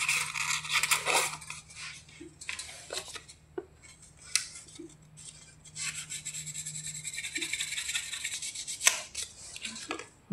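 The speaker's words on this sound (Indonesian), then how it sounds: "Switch dari tegangan AC-nya ini kita bersihkan pakai amplas" Irregular scratchy rubbing and rasping strokes of fine sandpaper cleaning the switch contacts of a Kenwood toaster, close by, with small metallic clicks and taps scattered throughout; no talking.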